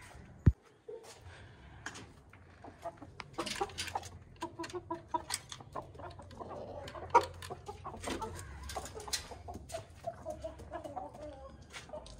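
Quiet clucking from several hens scattered through a low, rumbling background, with occasional sharper calls and no talking.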